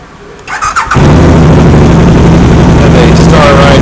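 Can-Am Spyder engine cranking and starting, a brief starter whir that catches into a loud, steady idle rumble close by.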